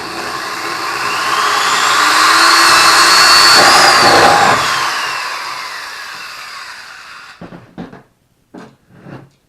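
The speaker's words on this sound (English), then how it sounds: "drill your hole for your power cord to slip through." A power drill bores a hole for a power cord in a DIY aeroponic garden container, a loud steady whine rising and falling for several seconds before stopping, followed by a few short scraping bursts.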